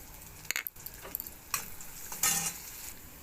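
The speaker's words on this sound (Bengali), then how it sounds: "এবার তেল গরম হয়ে গেছে, এবার আমি একটু দিয়ে দিলাম পেঁয়াজ, দিয়ে দিলাম কাঁচা লঙ্কা" Onion and green chilli dropped into hot oil in a wok, giving sharp bursts of sizzling and spitting with a few small clinks, close and moderately quiet, with no talking.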